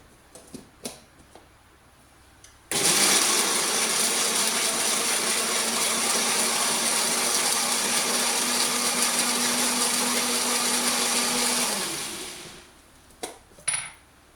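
After a few light clicks, a blender roars into a loud, steady whine grinding mango chutney for about nine seconds, then winds down, followed by more handling clatter.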